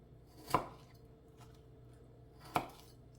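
A knife dices tomatoes on a cutting board during home canning, giving two sharp, isolated chops about two seconds apart over a quiet room.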